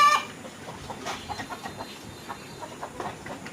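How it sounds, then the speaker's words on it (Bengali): Roosters of three to four kilograms on a poultry farm make soft, scattered clucks and short calls at moderate distance, over a constant low background hum. "এই পাশে 3 পিস মোরগ রাখা আছে"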